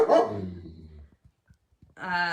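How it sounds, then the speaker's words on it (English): A dog barks close by, a short burst at the start and another at the end, with soft taps and near silence between. "Sorry that the dog is again barking."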